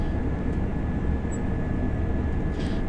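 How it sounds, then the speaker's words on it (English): A Hitachi IET dual-mode train runs on the East Coast Main Line in Train Sim World, a steady low, rumbling drone of the moving train with no breaks. "A dual mode Hitachi IET"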